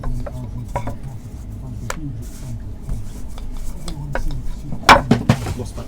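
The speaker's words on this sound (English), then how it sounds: "I shall use my chopping board, and I shall chop up a little bit of spring onion" A knife taps on a chopping board as spring onion is cut at an outdoor history festival cookout, with scattered clinks of dishes and utensils and a cluster of louder knocks near the end.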